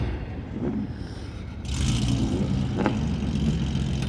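Japanese tuned cars gathered at Daikoku PA, with a Toyota Mark II and Chaser among them. After a low idling rumble, an engine abruptly fires up into a louder, rougher roar, with a sharp rev blip shortly after.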